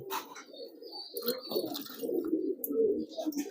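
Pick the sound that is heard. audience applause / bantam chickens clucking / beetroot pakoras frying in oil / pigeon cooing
pigeon cooing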